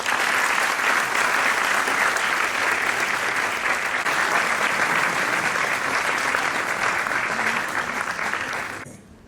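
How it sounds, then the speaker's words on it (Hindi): An audience at a press meet for Cadence-WWI breaks into loud, sustained applause that holds steady for several seconds before cutting off sharply, with no voices over it. "तो इनके लिए ज़ोरदार ताली बजा दीजिए।"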